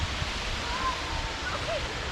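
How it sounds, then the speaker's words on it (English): Creation Falls, a small waterfall in Red River Gorge, rushes as a steady, broad wash of noise, even and continuous throughout, with no talk over it. "It's just a nice waterfall down here."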